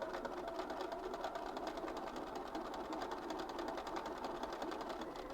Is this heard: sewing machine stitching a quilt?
yes